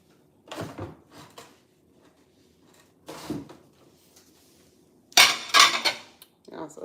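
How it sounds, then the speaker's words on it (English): Dishes being washed up at home: pots and cutlery clink and clatter in a few separate bursts, with a louder clattering run of dishes near the end, close by and with no talk. "I'm gonna wash up these little bit of dishes first"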